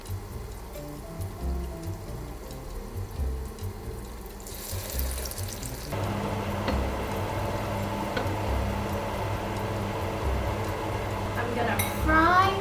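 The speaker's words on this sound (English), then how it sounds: "So now I'm gonna fry the fritters." Acaraje fritters fry in orange palm oil with a continuous crackling sizzle that grows louder and denser partway through, close by, under a person's intermittent talking.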